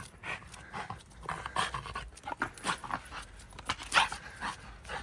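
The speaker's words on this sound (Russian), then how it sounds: "И вот так вот мой собака отдыхает." A bulldog pants steadily while resting, a close rhythmic run of quick breaths with a few soft whimpering noises, alone without talk.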